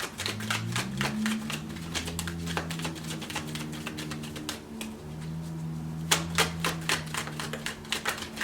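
Oracle cards shuffled by hand in a steady run of quick riffling taps and flutters, close and clear, with soft background music underneath and no talking.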